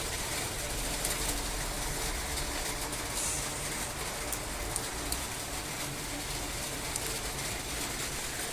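Steady rain falls outdoors near a kitchen while drumstick leaves are picked, making a continuous dense hiss of drops on surfaces with no pauses.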